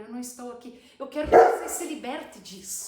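A dog barks in the background, with one sharp louder burst near the middle that then trails off, while a person keeps talking steadily over it.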